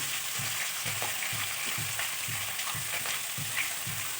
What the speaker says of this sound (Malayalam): അതിലേക്ക് സവാള ഇട്ട് കൊടുക്കണം